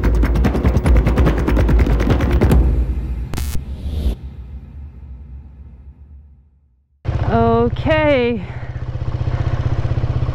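Loud rapid engine bursts cut off into near silence, then a motorbike engine starts up again with rising revs and a steady throbbing idle.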